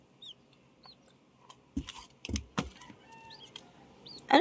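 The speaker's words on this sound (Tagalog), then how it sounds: "Abangan natin ang paglaki ng tikling." A baby rail (tikling) chick kept as a pet gives short, high chirping peeps at intervals, mixed with a few soft thumps and handling knocks nearby, with no talking.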